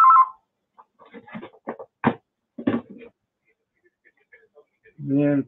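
A mobile phone that was thought to be switched off rings during a lecture. A short tonal ring sounds at the very start and another at the end, with someone speaking in between.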